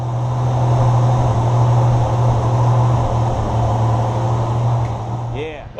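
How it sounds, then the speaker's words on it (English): Honda Goldwing GL1500 motorcycle from 1988 running at high idle on choke, a steady loud droning hum held close and even, with a voice briefly speaking as it fades at the end. "Oh yeah, high idle, due to the choke"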